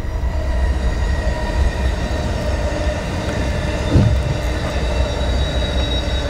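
A train rolls past at night beside the Sixth Street Bridge in Los Angeles, a steady rumble of rail cars with a brief swell near the middle and faint wheel squeal, with no voices.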